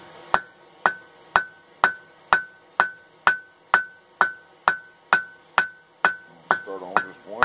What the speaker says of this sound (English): So now when we peen this out with the cross peen, it'll have that fish cross peen.